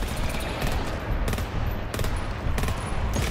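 Sustained automatic machine gun turret fire in the sci-fi horror shooter GTFO, a dense, loud, continuous burst running the whole stretch with a few sharper peaks.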